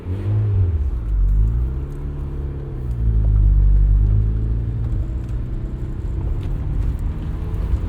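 A 1991 built turbo Mazda Miata driving, engine rumbling low and steady with rising and falling revs from inside the cabin, continuous and fairly loud.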